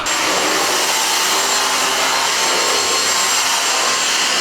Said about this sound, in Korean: 청소기를 돌려야겠습니다.